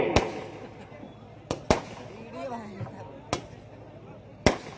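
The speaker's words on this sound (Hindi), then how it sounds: "बहुत पटाखे फूट रहे हैं" Firecrackers burst at a tournament celebration: about five sharp, loud bangs at irregular intervals, with crowd chatter and voices murmuring between them.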